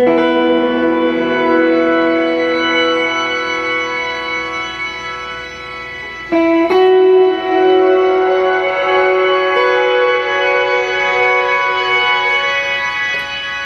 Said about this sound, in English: Here is another one called a spring sound.